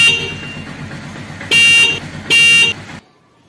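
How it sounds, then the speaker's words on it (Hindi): Motorbike horn being tested after fitting a capacitor with rectifier, two loud, steady honks of about a second each over a low idling engine, then silence. "हम इसका हॉर्न जो है वो भी चेक कर लेते हैं"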